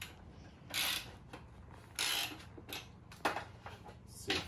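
A skateboard's loose trucks are tightened with a tool, giving several short, quiet ratcheting clicks in bursts with pauses between them.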